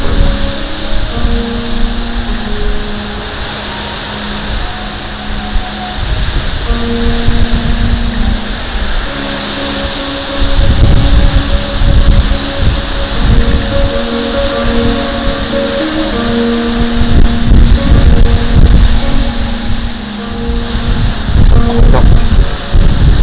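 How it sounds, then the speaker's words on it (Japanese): Strong typhoon wind near a river, a loud continuous roar buffeting the microphone in uneven gusts, with a steady engine-like drone running underneath throughout. "台風の風だね、これは。"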